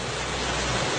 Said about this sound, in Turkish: Deregozir'de şelaleyi çekiyoruz.